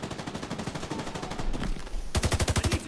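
Rapid bursts of automatic gunfire in a shooting video game, loud and close, a steady run of shots followed by a brief lull and then a heavier, punchier burst at the end.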